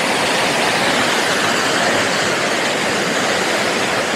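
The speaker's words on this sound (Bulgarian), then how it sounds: "Ето ме и под самия водопад." Boka waterfall, an 85 m two-tier fall, roars from directly beneath as a loud, steady broadband rush of crashing water that holds constant throughout with no pauses.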